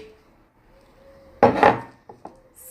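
Apple pieces dropped into a container for a smoothie, a single short clattering tumble of chunks followed by two light knocks, close and clear in an otherwise quiet room.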